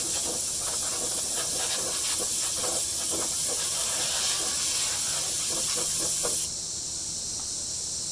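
A loud, continuous hiss of aerosol brake cleaner sprayed on a 1994 Jeep YJ brake part runs for several seconds, then cuts off, leaving a quieter background noise.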